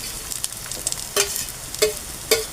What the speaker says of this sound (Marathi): आता बघा इथे मी कांदा टाकतो.